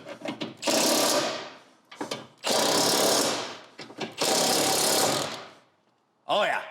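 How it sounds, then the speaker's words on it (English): An impact gun tightens bolts on a Raptor in three long, loud, rattling hammering bursts, with short spurts and pauses between them and a brief voice at the end. "use an impact gun that's massively overrated for the job"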